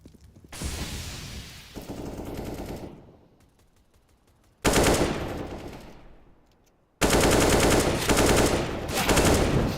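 Rapid automatic rifle fire rattles in loud bursts during a Counter-Strike esports grand final match between Virtus.Pro and ENCE at ESL Challenger Katowice 2023, with sustained volleys separated by brief lulls.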